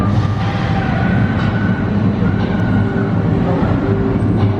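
A roller coaster train rolling past at Phantasialand during the Wintertraum winter event, a loud continuous rumble with rattling wheels, steady and close throughout with no speech.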